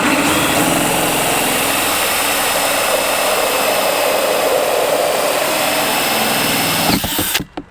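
A power drill runs steadily for about seven seconds as its bit bores through a plastic chicken feed container, the motor whining loud and close before cutting off abruptly at the end.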